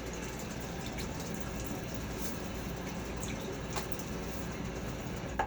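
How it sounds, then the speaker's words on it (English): Water splashes and trickles steadily as it is scooped onto a face before a wet shave, soft and close with no talking. "A little pre-water on my face."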